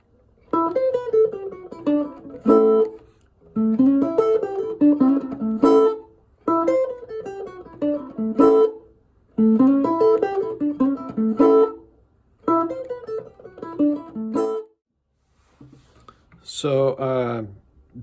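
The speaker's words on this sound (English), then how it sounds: "we're going to go backwards and forwards with those licks" Chicago blues licks on electric guitar, repeated bursts of quick bent and picked notes in short phrases separated by pauses, played close and clear, finishing on a sustained chord.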